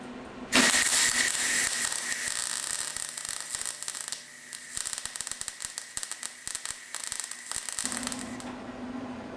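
Welding on Allis Chalmers 310 tractor sheet metal coated with weld-through primer, filling drilled-out spot weld holes: loud, harsh broadband crackling arc running steadily, then breaking into short stuttering bursts of welds, with no talk.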